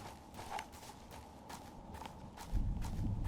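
Footsteps in a Russian shooter video game, Escape from Tarkov, come as a series of soft, evenly spaced steps at moderate distance, with a heavier thud near the end.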